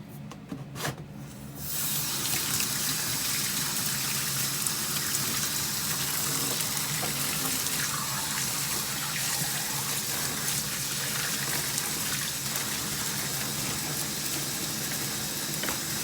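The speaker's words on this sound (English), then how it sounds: "Going to fill the pot up." Tap water runs steadily into a plant pot after a short pause, a continuous close, even gush with no talk over it.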